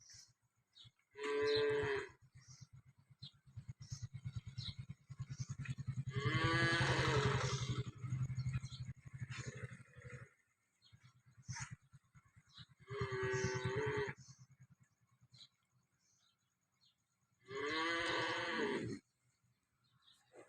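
A cow that calved four days earlier, on a farm in Tharad, Banaskantha, moos four times in loud, drawn-out calls separated by pauses, with a low steady hum underneath.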